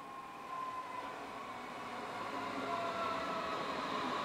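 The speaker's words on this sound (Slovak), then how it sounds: "ešte raz poprosím príchod vlaku" A train arriving, heard as a steady rolling rumble that grows slightly louder, with a faint whining tone running through it.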